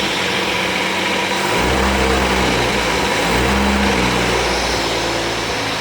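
Engine of an abandoned 1962 AMC Rambler revving in drive, rising from a rough idle to a louder, deeper droning rumble that eases and then swells again, recorded up close.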